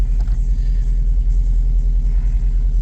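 An Opel Manta GTE engine idling roughly, a loud, steady low rumble with a faint uneven pulse running throughout, close up and with no speech.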